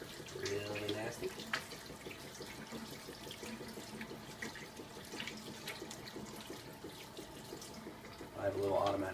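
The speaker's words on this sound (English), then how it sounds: "wash your hands" Tap water runs steadily into a sink as hands are washed, a continuous soft splashing hiss at low level, with a couple of brief louder bursts near the start and end.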